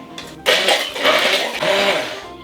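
An immersion blender whirring through meatball mixture with Quebec garlic, a loud motorized buzz that starts abruptly and runs in two surges with a brief dip between, close up.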